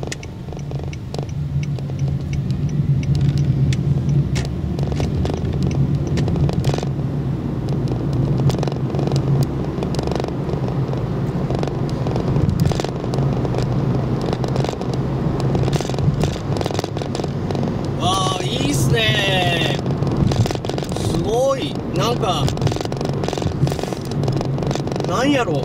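A Honda Shuttle car-share car driving at medium speed gives a steady low engine and road drone from inside the cabin, with occasional light rattles and a person talking over it throughout.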